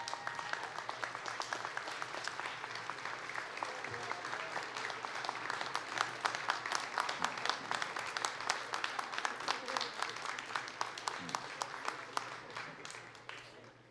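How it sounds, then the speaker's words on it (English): A college convocation audience applauds award recipients with steady, dense clapping from a large crowd that holds for over ten seconds before tapering off at the end. "Would you all stand and give the award recipients a round of applause?"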